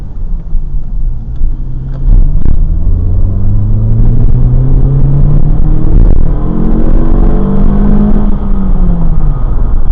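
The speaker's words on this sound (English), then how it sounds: "It's all about that intake sound to make you feel like you're fast." Acura RSX DC5 base model accelerating from a turn, its intake note rising in pitch through the revs over steady road rumble, loud and close from inside the cabin.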